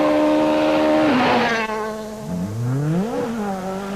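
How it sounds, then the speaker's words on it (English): A Monster Energy Ford Fiesta S2000 rally car drives a road stage, its loud engine revving hard, dropping pitch as it passes close by and then climbing again through the gears. "Next car on the road, the Monster Energy Ford Fiesta of Sebastian Klaassen and Cindy Hardy."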